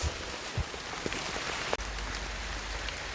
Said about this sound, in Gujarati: વરસાદ પણ ચાલુ થઈ ગયો છે મોટા સાટાનો જ જે તમે અવાજ પણ સાંભળી જ શકતા હશો